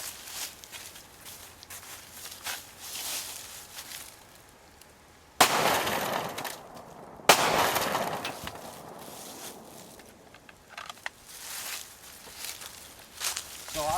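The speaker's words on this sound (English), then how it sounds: "it's going through the back door, shattering out the glass" A 5.7 round goes through a car's back door and shatters the glass, heard as a sharp, loud crack with a burst of crashing glass, then a second sharp impact, set among quieter rustling and shuffling.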